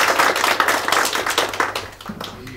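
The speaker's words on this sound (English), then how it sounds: "I usually don't get applause from press people" Press members at the Foreign Correspondents' Club of Japan give Dr. Robert Peter Gale a warm round of applause: loud, dense, close clapping that continues throughout and thins slightly toward the end.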